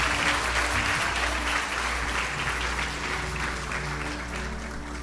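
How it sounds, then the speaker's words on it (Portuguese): Sustained applause from a church congregation during a sermon, a dense steady wash of many hands clapping at even strength throughout, with a low hum underneath and no talking. "Pode aplaudir mais forte ao Senhor."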